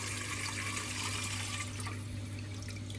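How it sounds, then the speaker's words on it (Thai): Tap water runs steadily into a pot under repair for a leak, a soft continuous splashing stream at moderate distance with a low hum beneath, no voices. "เดี๋ยวผมจะเปิดน้ำใส่ลงไปเลยประมาณสัก นิดนึงครับผม"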